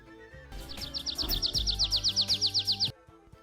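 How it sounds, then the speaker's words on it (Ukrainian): A nightingale sings a fast, rhythmic run of bright repeated trills, close and clear, over a soft background of other birdsong. "слухав, як чарівно співає соловейко"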